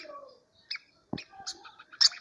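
A young bird chick, not a masked water tyrant, gives a few thin, high chirps and tweets in short separate bursts, close and fairly clear against a quiet background.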